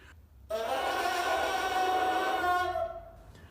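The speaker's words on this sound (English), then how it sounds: "So what does a reed sound like? It sounds like this." A lone bassoon reed blown on its own, a buzzy, nasal tone held steadily for a few seconds, harsh and raspy, then cut off.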